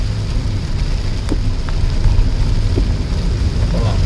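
Heavy rain drums steadily over a car driving through forest between Palode and Trivandrum via Nedumangad, a dense continuous wash with low road and engine rumble beneath, a few faint knocks breaking through.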